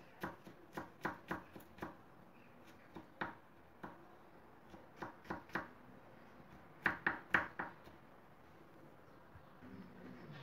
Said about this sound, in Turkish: doğrayalım. Döndürüyoruz ve bu şekilde kıyalım.